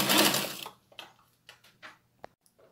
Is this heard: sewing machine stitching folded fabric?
yes